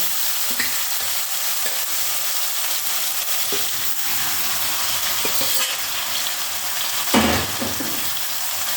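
Tengamora seeds for pickle masala fry in a kadai, a steady close sizzle with occasional scraping stirs and a louder clatter near the end, with no talking.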